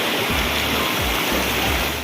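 A village river stream rushes strongly over stones, making a loud, continuous roar and hiss of flowing water with a deep low rumble pulsing underneath, close by and unbroken throughout.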